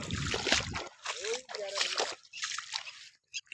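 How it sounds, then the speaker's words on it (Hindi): Irrigation water sloshes and splashes as it flows slowly into a wheat field, bursts of watery rushing with gaps between them, heard close up while people talk over it. "काफी लंबा होने के कारण पानी धीमे धीमे पहुंच रहा है।"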